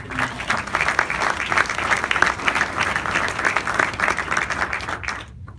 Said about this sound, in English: a round of applause for all who have been